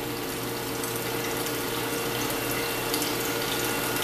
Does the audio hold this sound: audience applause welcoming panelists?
no